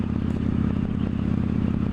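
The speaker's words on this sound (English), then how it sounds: "The engine's making a nice little noise." A Victory Judge motorcycle with a stock exhaust that may be debaffled rumbles steadily on the road, a low, even engine drone with light mechanical clatter, heard up close without voices.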